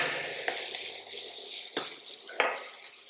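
Vegetables for street-style chow mein stir-fried on high flame, a bright crackling sizzle punctuated by three sharp metallic scrapes and clanks of utensil against pan.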